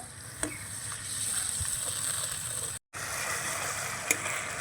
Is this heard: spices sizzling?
yes